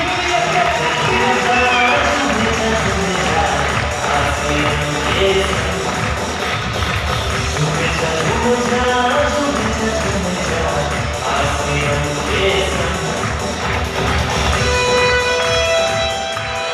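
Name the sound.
audience applause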